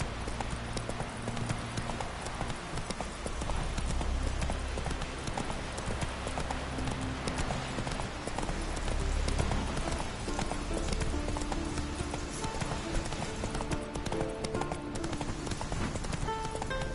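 Horse hooves galloping in The Witcher 3, a fast, steady clip-clop rhythm that runs continuously, fairly close, with faint game ambience underneath.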